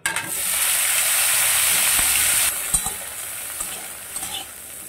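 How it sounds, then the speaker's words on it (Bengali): Cauliflower pieces hitting hot oil set off a loud, bright sizzle that holds steady for a couple of seconds, then settles into softer frying crackle with a few clinks of stirring. "এবার ওই তেলের মধ্যে আমি দিয়ে দিচ্ছি ফুলকপিগুলো।"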